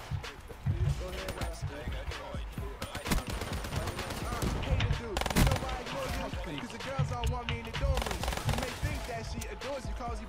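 Rapid machine gun fire rattles in bursts within a Black Ops 3 match, mixed with other game effects and explosions, while a player talks excitedly over the action.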